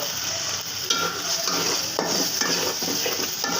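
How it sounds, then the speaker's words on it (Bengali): Tengra fish stirred and fried in onion, turmeric and chili spice paste, a loud continuous sizzle broken by repeated scraping clinks of a utensil against the pan. "এখন আমি মাছগুলো দিয়ে দেবো"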